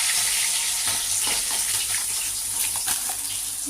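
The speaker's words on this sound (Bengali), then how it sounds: "মাছগুলো আমি আগে একবার উল্টানো আমার হয়ে গেছে এবার দ্বিতীয়বার উল্টালাম উল্টিয়ে আর একটু ভাজবো" Katla fish pieces frying in hot oil in a pan after being turned, giving a loud, continuous sizzle with crackling bursts and occasional stirring scrapes throughout.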